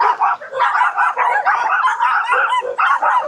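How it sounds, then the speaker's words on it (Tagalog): Several dogs bark over and over at a campsite in Siniloan, Laguna, a loud, close, overlapping chorus of yaps and barks that keeps going without pause. "Dami kasing aso eh."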